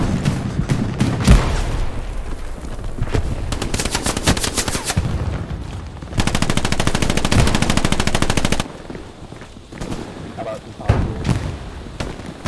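Heavy World War II-style battle gunfire in the shooter Hell Let Loose, with sustained machine-gun bursts, scattered rifle shots and booms close and loud, and players talking over the din.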